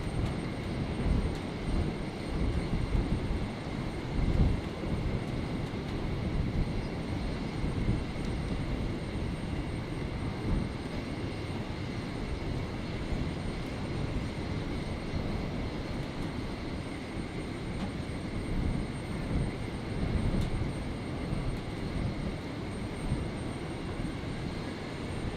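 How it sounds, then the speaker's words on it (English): A Jetstar A320 airliner rolls for takeoff on runway 01 right at Brisbane International Airport on a stormy night, its engines making a steady, broad roar that holds at an even loudness throughout with no voices over it. "That's Jetstar 800 there, just received its departure clearance, rolling."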